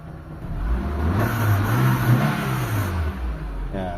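A repaired Mitsubishi Lancer GLXi engine, once misfiring with its check-engine light on, revs up from idle in a rising and falling swell, holding steady before settling back, loud and close with no talk.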